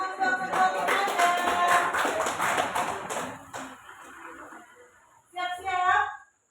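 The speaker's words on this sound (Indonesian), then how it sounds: "Tepuk tangan untuk ketua tim Anda." A classroom group gives a team leader a round of applause during a lesson activity: brisk, dense clapping for about three seconds, fading out, then a short second burst near the end.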